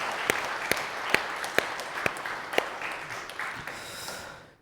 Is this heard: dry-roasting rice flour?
no